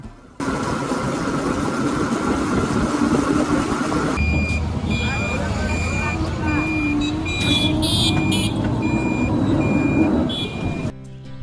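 An auto rickshaw ride from Kushtia Court railway station toward Jagati railway station in Kushtia, Bangladesh: a steady engine drone and road rumble run throughout, with high electronic beeping tones repeating through the second half.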